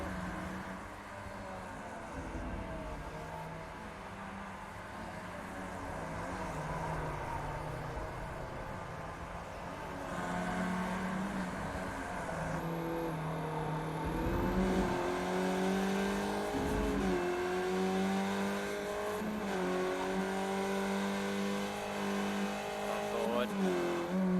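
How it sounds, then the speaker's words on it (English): Skip Barber race cars in the iRacing sim at Okayama International Circuit, engines droning and revving steadily with rising and falling pitch through gear changes, under continuous race commentary. "Gyro on Sebastian's car as he's hunting down Blake"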